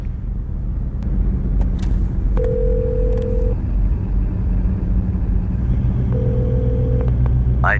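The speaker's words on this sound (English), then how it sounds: "Dial your number." Telephone DTMF dialing tones sound as two long, steady beeps a few seconds apart over a constant low engine-like rumble.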